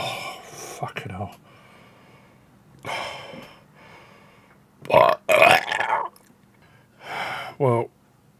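Loud, deep burps after a red-hot Indian takeout, several long rumbling belches in separate bursts with breathy gasps and grunts between them, some shaped almost like words.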